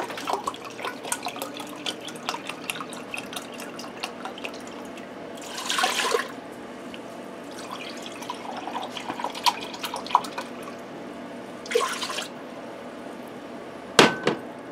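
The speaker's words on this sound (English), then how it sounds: "I'm going to add in 3 cups of chicken broth." Chicken broth is poured into an Instant Pot from a measuring cup, giving a few short splashing pours among small drips and clinks, with a sharp knock near the end, close and fairly quiet.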